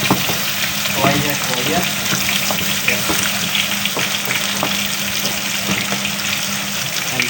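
A fish dhaal curry sizzles and fries loudly in a pan while being stirred, with a steady dense crackle, faint scraping and a brief spoken word, close up.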